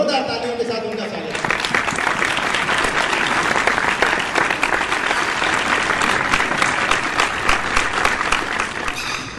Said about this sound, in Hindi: जरा जोरदार तालियों के साथ उनका स्वागत